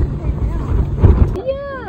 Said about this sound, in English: Oh, you can see that it's really windy.